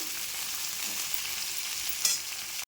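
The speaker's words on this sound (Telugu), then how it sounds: "బెండకాయలని ఇలా కలుపుకోవాలి" Okra frying in a pan with curry leaves and garlic paste, stirred steadily, giving a continuous close, bright sizzle with a brief louder scrape of the spatula near the end and no talking.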